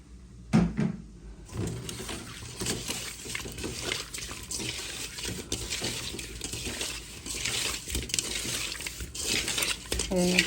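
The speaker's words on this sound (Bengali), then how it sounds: "হলুদ, মরিচ, লবণ দিয়ে দিলাম। মাছটা মেখে নেব।" Bele fish being mixed by hand with turmeric, chili and salt, producing a steady, close, wet squelching and rubbing that continues throughout, with occasional splashes of water and light clatter.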